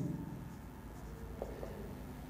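Pen or chalk writing numbers during a maths place-value lesson, soft scratchy strokes heard faintly over a steady room hum with no talk.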